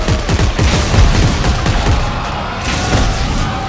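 Gunfire in the co-op sci-fi horror game Dead Space 3 rings out in loud, rapid bursts of repeated shots close up, overlapping into a dense barrage with almost no talk.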